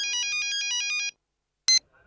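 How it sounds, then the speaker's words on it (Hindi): A telephone rings in a hospital setting with a rapid electronic trilling burst of about a second, then silence and a short chirp, loud and clear with no talk over it. "सर रउआ खातिर फोन बा।"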